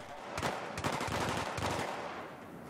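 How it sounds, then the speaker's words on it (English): Gunfire in a Battlefield 3 firefight, a soldier and a sniper both shooting: loud, close bursts of rapid automatic shots that come in clustered volleys over steady background rumble, with no talking. "There's a guy shooting at me. And there's a sniper shooting at me too."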